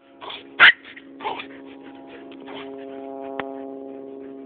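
A small dog whimpers and gives a few short, sharp yips, with one loud yelp early on, followed by a thin, steady whine that carries on to the end.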